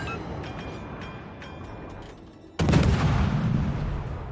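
A warship's guns fire in a naval video game, with a sudden loud boom that rolls on into a rumbling roar over quieter engine noise.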